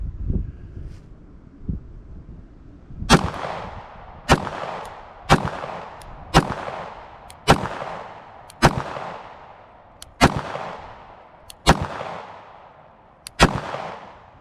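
A Springfield Hellcat pistol fired one-handed outdoors, about nine sharp, loud shots spaced roughly a second apart, each ringing briefly with wind noise between.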